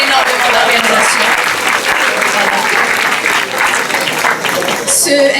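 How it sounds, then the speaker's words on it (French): Loud, sustained applause from a crowd at a Model UN closing ceremony claps steadily throughout, close and dense, with a few brief cheers rising near the end. "Veuillez les applaudir quand même encore une fois"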